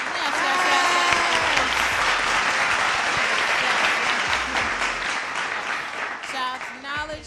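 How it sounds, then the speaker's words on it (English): Steady, dense applause from an audience at a live show fills several seconds at close range, with whoops and voices rising over it before it thins out. "Round of applause"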